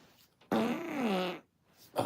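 A single drawn-out fart lasts about a second, loud and close with a wavering, reedy tone, followed by a short burst at the end.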